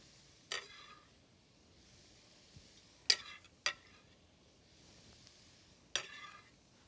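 Onion, bacon and mushroom stems stirred in a pan: four short scraping strokes of a utensil, spaced a second or more apart, over a faint quiet sizzle.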